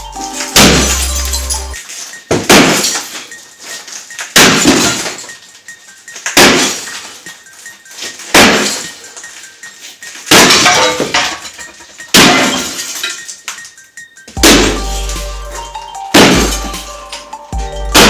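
Heavy hammer blows smash apart a cast iron bathtub during a bathroom demolition, each loud crash ringing out with metallic clatter and breaking fragments, repeating roughly every two seconds in a steady pounding rhythm, no talk.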